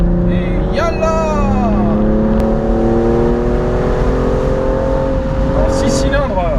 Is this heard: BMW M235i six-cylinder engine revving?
yes